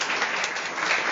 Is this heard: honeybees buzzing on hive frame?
no